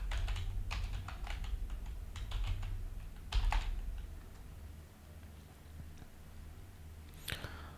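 Someone types a plugin search into a WordPress dashboard on a computer keyboard, producing soft, rapid clusters of close keystrokes over a low steady hum, with a few louder taps.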